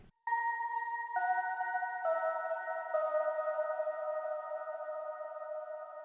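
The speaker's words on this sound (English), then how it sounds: "so I made this melody with a flex preset." A synth melody from an FL Studio Flex preset for a UK bass beat: clear sustained bell-like tones stepping through four notes in turn, each ringing on and overlapping, with no voices.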